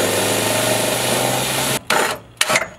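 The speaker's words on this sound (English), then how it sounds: "Alright, can we drill it? Drill it. Drill it." A power drill whirs steadily at close range for nearly two seconds while drilling through for a roll bar on an NB Mazda Miata, then stops, followed by a few short bursts of drilling and handling noise.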